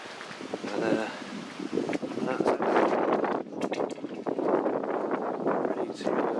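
Strong wind gusts steadily against the microphone at an outdoor caravan rebuild site, a loud continuous roar with no break throughout.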